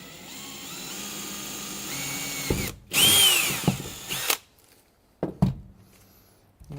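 A power drill bores through the top layer of aluminum on a van floor, a close, loud whining burst of about two seconds, followed by a few short clicks and bumps.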